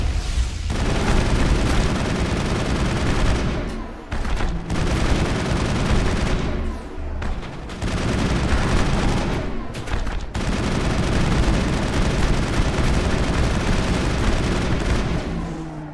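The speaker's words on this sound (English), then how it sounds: "A few explosions here to mess with you." Dense bursts of gunfire and booming explosions in the video game Mass Effect 1 roar almost continuously, loud and close, with a few brief gaps between volleys.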